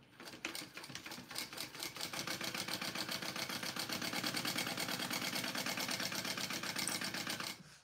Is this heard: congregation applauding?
no